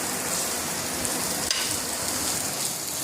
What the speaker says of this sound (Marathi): तेल टाकलंय, कांदा भाजून घेते.